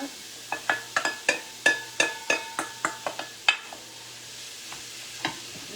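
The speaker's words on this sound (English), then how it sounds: "Hear that sizzle? It's just like ground beef." Quiet sizzling of crumbled tofu in a frying pan with a quick run of sharp scraping and clinking stirs that slows and then stops. No one speaks.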